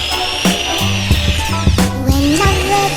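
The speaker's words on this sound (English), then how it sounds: "We're drilling a hole in the wood out the side of the house" A power drill bores a hole through the wooden wall of a farmhouse, whining in short bursts that rise and stop and restart, loud and close.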